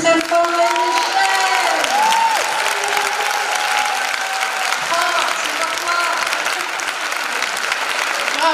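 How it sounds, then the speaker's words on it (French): Loud, dense applause from a crowd at a French televised talent show fills the whole stretch, with scattered cheers and whoops and a few brief musical tones rising over the steady clapping. "On applaudit très fort les Michel."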